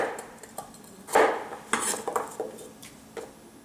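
Half-inch vegetable slices dropped into a bowl, producing a few soft clattering thuds and light knocks against the dish, close and moderately loud with no talking.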